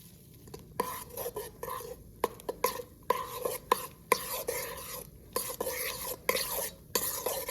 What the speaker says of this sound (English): 2 tablespoons of sugar, and then give that just a little stir.